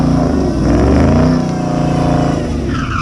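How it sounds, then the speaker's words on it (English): Cam-swapped Chrysler 300 SRT8 with a 6.1 Hemi V8 launches hard in a one-wheel peel, a loud, close, continuous engine roar with tire spin that holds steady throughout without speech. "Oh, we got the one wheel peel."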